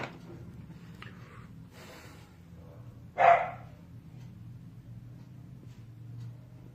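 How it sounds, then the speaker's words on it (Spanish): A dog gives a single short bark indoors, fairly near and sharp, rising briefly above a steady low room hum and otherwise quiet background. "todo el día no ladra, pero estoy transmitiendo y le da por ladrar"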